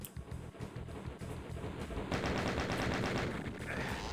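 Rapid gunfire in the video game Doom 2 rattles in quick repeated shots, starting as distinct bursts and thickening into a loud sustained barrage toward the end.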